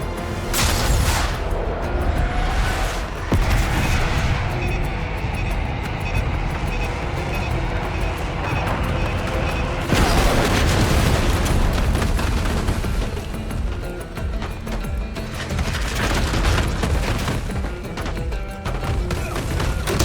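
Airstrike bombs detonating in Call of Duty: Black Ops 6, a long, loud stretch of rumbling explosions and booms with rolling bursts and vehicle-like noise throughout, no speech over it.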